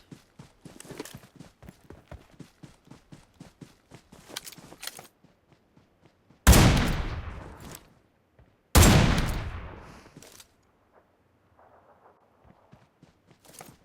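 Gunfire in the PUBG Mobile game: a run of rapid, sharp shots at the start, then two loud, booming blasts that ring out and decay, followed by quieter scattered taps.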